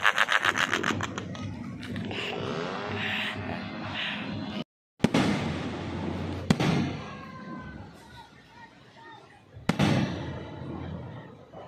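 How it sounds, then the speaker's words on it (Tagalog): New Year's firecrackers in Bukidnon pop and bang at intervals, several sharp cracks among a crackling, noisy street background with voices nearby. "Sobrang ingay sa daan, paputok,"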